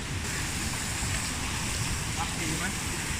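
Flowing river water in Mae Kampong, Chiang Mai, after a flood has receded gives a steady broadband rush with wind-like noise, constant throughout, with voices faintly present.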